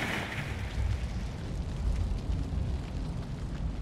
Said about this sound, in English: Wow, that was a much bigger explosion than I expected